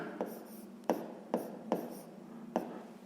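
Pen writing on paper while listing edges of a shape for a sixth-grade math exercise: five short, scratchy strokes at an uneven pace, close and fairly quiet, with no talk.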